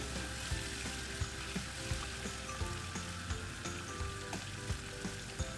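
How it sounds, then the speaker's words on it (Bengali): Cauliflower pieces fry steadily in hot oil for a fish curry with potato and lentil dumplings, a continuous close sizzle broken by frequent small pops and light clicks of turning. "ফুলকপিগুলো আমি লাল লাল করে ভেজে তুলে নিচ্ছি"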